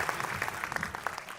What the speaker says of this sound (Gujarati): આ વ્યક્તિ માટે જેટલી આપણે તાળીઓ પાડીએ એટલી ઓછી છે